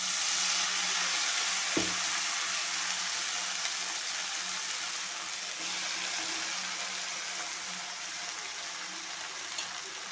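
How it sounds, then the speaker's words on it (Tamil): Washed drumstick (moringa) leaves hit softened onions in a hot pan for an egg-topped dish, with a steady, loud frying sizzle throughout and one brief knock near the start. "இப்போ அலசி வச்ச கீரையை போட்டுக்கலாம்."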